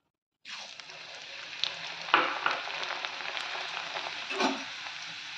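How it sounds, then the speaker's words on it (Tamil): Thick red poha (beaten rice) hits hot oil and breaks into a lively, steady sizzle while being fried for a crunchy ragi snack mixture, close and clear with a few stirring clinks and no talking. "சிகப்பு அவளு கெட்டி அவுளு எடுத்துருக்கிறேன் இதையும் வறுத்துக்கலாம்"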